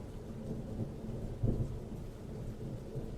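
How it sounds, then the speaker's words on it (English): Deep thunder rolls through a steady rainstorm, a low continuous rumble that swells briefly in the middle before settling back under the hiss of falling rain. "Thunder cracked in the distance."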